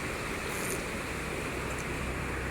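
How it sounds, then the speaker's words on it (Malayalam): Floodwater of the swollen Chaliyar river rushing and slapping against the bank, a steady broadband roar that stays loud and unbroken throughout, with wind buffeting the microphone. "അവിടെ വെള്ളം ആ ഭാഗത്തു നിന്ന് വന്ന് അടിക്കുന്നത് കേട്ടോ"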